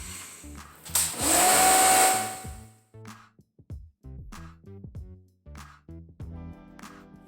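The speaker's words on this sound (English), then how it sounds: "I'm gonna go ahead and just pressure wash this from the outside" Pressure washer spraying mud off an SUV, a Montero, with a loud steady hiss for about two seconds that fades out, followed by clattering handling sounds and brief noises.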